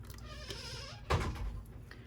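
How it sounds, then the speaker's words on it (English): Indoors, a door somewhere in the house bumps shut once with a dull, muffled thud about halfway through. It sits in the background under a low steady hum. "Yes, you did hear a door in the background."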